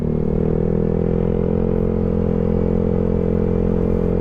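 Motorcycle engines on a group ride along a road toward the Mama Mary statue in Bauan, Batangas: a loud, steady, close drone of running engines with rattling wind noise, continuous throughout.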